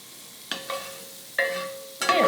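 Butter and oil sizzle in a hot crepe pan in short bursts, each flaring up then settling, close and moderately loud with no talking.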